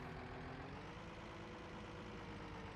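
A JCB Fastrac tractor in Farming Simulator 19 runs at a steady idle, a low, even diesel drone with a constant hum and no change in pitch, heard alone and fairly close.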